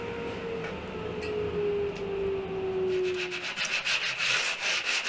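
Steady rasping sanding strokes on the edges of 3/4-inch Baltic birch plywood, with a tonal machine whine fading in the background, then quicker rhythmic rubbing passes toward the end.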